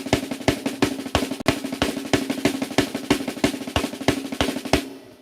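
Inverted paradiddles on a drum kit, a fast, steady stream of sharp hits with accented strokes recurring in a regular pattern, loud and close, running alone for about five seconds before ending abruptly.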